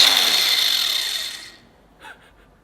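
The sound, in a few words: angle grinder grinding off rivets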